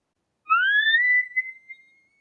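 A man imitates an elk call by mouth without a bugle tube, producing a thin, rising whistle-like tone that holds steady, then breaks into a few short, fading chuckle-like bumps in otherwise silent surroundings.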